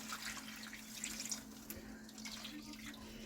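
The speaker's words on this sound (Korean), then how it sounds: "여기다가 아까 전에 무 육수 낸 물을 여기다가 옆에다 부어 줄 겁니다" Radish broth is poured into a pot beside braising dried pollock: a steady, continuous splash and gurgle of liquid, fairly soft and close, over a low background hum.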